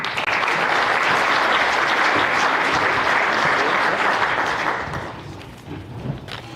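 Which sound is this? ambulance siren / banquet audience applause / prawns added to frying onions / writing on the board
banquet audience applause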